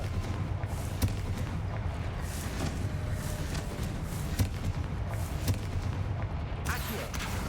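Confringo fire-curse explosions in Hogwarts Legacy sound as repeated dull booms and thumps at irregular intervals over a dense, steady game soundscape.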